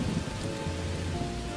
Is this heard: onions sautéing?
no